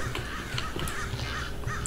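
Crows caw repeatedly in the Minecraft Pixelmon video game, short raspy calls scattered over the clip against a constant background hum, at moderate loudness.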